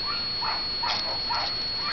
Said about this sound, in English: The dogs you hear barking are not Oots